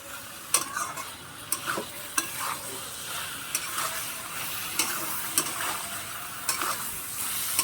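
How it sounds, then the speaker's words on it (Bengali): Bean and shrimp chachchari being stirred in a pan, a continuous close sizzle broken by repeated sharp scrapes and taps of the utensil at irregular intervals, with no speech. "এটাকে আমি এখন ভালো করে নাড়তে হবে।"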